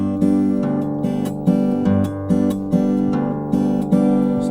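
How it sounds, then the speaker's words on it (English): Acoustic guitar in open G tuning is picked with three fingers locked together, plucking three strings at once in repeated even chords, close and clear with no voices. "and then you can play 3 strings at a time, and it sounds like this."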